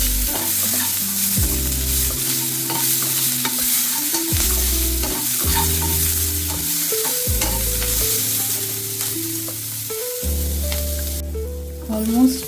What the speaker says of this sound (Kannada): ಇದು ಗೋಲ್ಡನ್ ಬ್ರೌನ್ ಆಗೋವರೆಗೂ ನಾವು ಫ್ರೈ ಮಾಡ್ಕೋಬೇಕು.